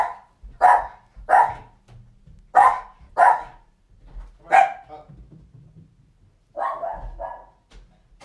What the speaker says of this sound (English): Hold on, we'll get the dog out.